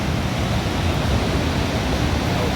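The Saraswati river rushes down a mountain slope near Badrinath as a loud, constant broadband roar of fast water heard close by, with no talk.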